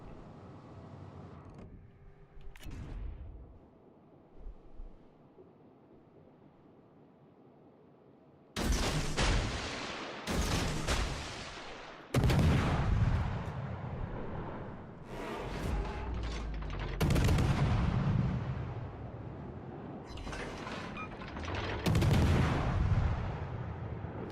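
Heavy 150 mm naval guns fire in a warship video game, with a faint sound near the start, then a series of loud, sharp booming salvos with long rumbling tails, repeating every couple of seconds.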